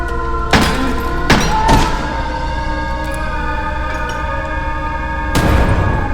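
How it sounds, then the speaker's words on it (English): Grenades are thrown and detonate in the game Crow Country, with several dull thunks and thuds spread across the moment over a low, steady background drone. "Didn't mean to throw the grenade"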